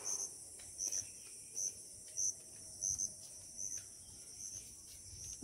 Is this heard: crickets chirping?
yes